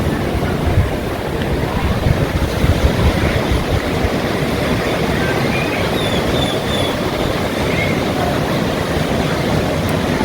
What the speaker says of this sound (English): The water looks a bit rougher and there's like all seaweed.